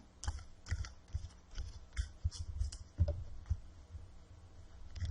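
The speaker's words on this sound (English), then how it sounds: "as I was shuffling this right now, just literally 2 seconds ago" Tarot cards being shuffled by hand, a quiet series of soft, irregular riffling clicks and flicks close by, with no voices.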